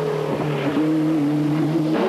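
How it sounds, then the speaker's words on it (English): Ford Escort Cosworth rally car on an asphalt stage in the 1994 French Rally Championship, its engine holding a loud, steady note with brief dips between gear changes, close and alone. "3 Escort Cosworths battling for the lead of the rally"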